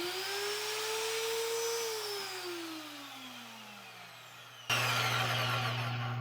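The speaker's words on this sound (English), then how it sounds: "And then you can turn the drill motor on here." A Vevor magnetic drill motor runs with a steady mechanical whine that winds down in pitch. It then starts up again abruptly, louder and with a strong, even hum. No one speaks.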